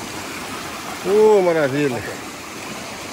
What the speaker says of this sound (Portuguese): Mais uma cachoeira para coleção aí.